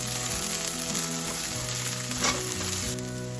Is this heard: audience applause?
no